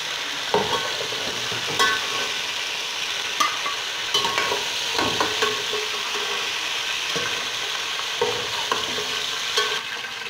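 Onions frying in hot oil for a chicken and chickpea curry, a steady close sizzle with repeated clacks of a spoon stirring the pan at a loose rhythm, no voices.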